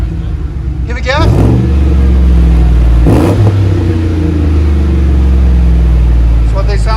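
Loud Chevy Tahoe 5.3L V8 exhaust with the muffler deleted and resonator kept, revved twice hard then settling into a deep, throaty rumble, close by.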